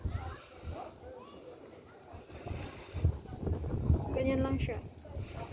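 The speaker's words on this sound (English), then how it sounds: "Ay, so windy." Strong wind buffets the microphone at the top level of Tanjong Rhu Tower in Singapore, a steady low rumble with gusts swelling near the end while people talk over it.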